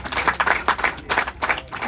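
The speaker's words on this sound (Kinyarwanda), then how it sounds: "Ngira nti buri wese abiha amashyi ku icyo gikorwa gikomeye." An audience applauds at a ceremony honouring athletes with disabilities, a lively burst of many hands clapping in uneven surges that rise and fall, close and fairly loud, with no talking.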